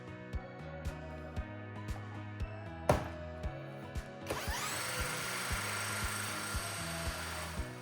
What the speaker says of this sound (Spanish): Colocaremos un perno Allen en el eje del alternador para accionarlo con un taladro de batería.